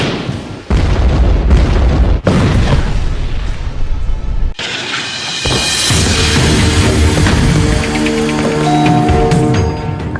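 Bombs dropped by Israel on the Gaza Strip go off as a series of loud, heavy blasts, several deep booms in quick succession, followed by sustained rumbling and debris noise.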